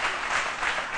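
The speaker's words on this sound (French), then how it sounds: "on applaudit pour Alissar." A TV studio audience gives a guest a short burst of applause, a dense, even spatter of many hands clapping at once, close and steady from start to finish.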